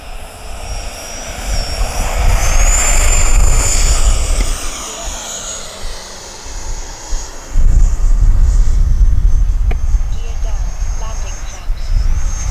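A Freewing Yak 130 EDF RC jet spools up and takes off without flaps, its loud ducted-fan whine rising and sweeping in pitch, then surging again with a rough rumble; a voice talks over it.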